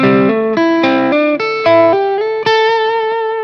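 A distorted electric guitar plays a short lick of hammer-ons with a closing slide, loud, sustained notes stepping upward alone.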